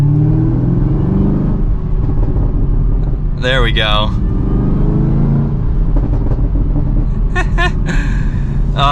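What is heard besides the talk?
Chevrolet Camaro ZL1 supercharged V8 exhaust revving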